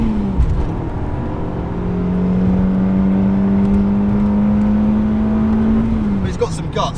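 A Toyota Altezza engine revs steadily upward under hard acceleration, heard from inside the car as a loud, sustained rising drone, with a shift and a voice near the end.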